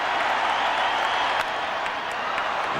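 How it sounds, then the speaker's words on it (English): The Fenway Park crowd at a Red Sox baseball game against the Athletics gives a steady roar of cheering and applause, a dense, continuous wash of sound with no pauses. "Now the Fenway crowd gets into it."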